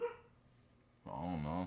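A dog barks indoors at night, a short burst at the start and then a louder run of barking, with a person speaking briefly over it.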